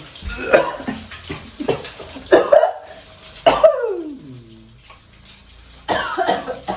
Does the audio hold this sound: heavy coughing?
yes